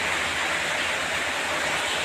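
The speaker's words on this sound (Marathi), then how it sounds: "अजून इतका पाऊस आहे भयंकर पाऊस आहे" Torrential rain pours down outside a home, a dense, unbroken roar of water holding steady and loud throughout.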